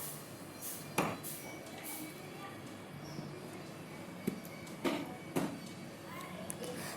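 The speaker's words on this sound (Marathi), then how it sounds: "अशा प्रकारे मोठ्या चाकूने आपण जोरजोरात जोर लावून सर्व कैऱ्या या बारीक बारीक फोडीमध्ये तयार करून घेऊ म्हणजेच कापून घेऊ" A big knife chops raw green mangoes on a board, giving a handful of sharp, separate thuds spaced seconds apart over a quiet, faintly noisy room.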